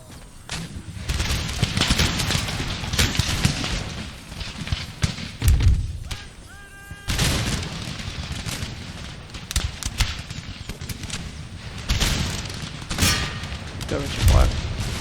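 Volleys of musket fire from line infantry in Empire: Total War, loud crackling bursts and thuds recurring every few seconds, with someone talking over the battle.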